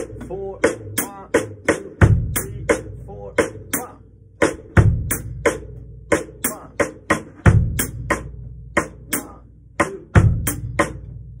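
Drum kit playing a songo rhythm, crisp repeating pattern of snare and tom hits with a deep kick drum landing on regular beats, loud and close, looping evenly throughout with no talking.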